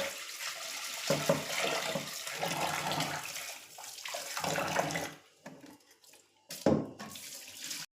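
Lentils (dal) being rinsed clean under a running kitchen tap, a steady close rush of water with sloshing as the grains are swirled, then the flow cuts off and resumes briefly.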